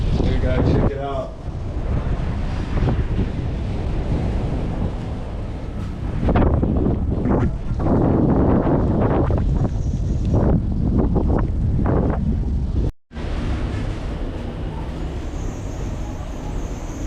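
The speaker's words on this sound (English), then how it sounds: "just got really windy all of a sudden" Strong wind gusting around a cable car in rain, a loud continuous roaring rush that buffets the microphone, swelling midway, with a brief dropout near the end.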